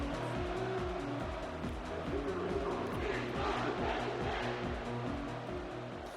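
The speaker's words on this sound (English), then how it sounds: "The crowd is getting into it." A stadium crowd roars steadily in a college football video game, Penn State against Boise State at the Fiesta Bowl, a constant dense cheer with a rhythmic band or chant pulsing underneath and no commentary.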